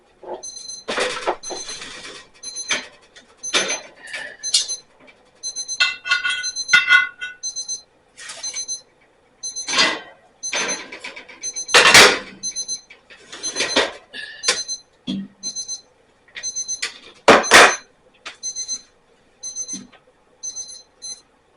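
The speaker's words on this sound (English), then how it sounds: "And the buzzer should be going off right now." An oven timer buzzer goes off in short repeated bursts of shrill beeping, with brief pauses between each bout.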